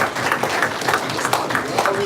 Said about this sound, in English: So just give this a round of applause for that.